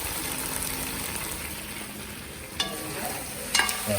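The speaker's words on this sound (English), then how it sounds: "Chicken frying. It's frying up inside it." Chicken frying in a pot for a Trinidad-style stew with lentils, a steady close hiss and sizzle with a couple of brief scraping stirs near the end.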